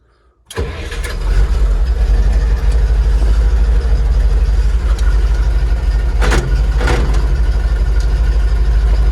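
Car engine cranking and catching after a brief silence, then settling into a loud, steady idle up close, with a couple of faint clicks over the running engine.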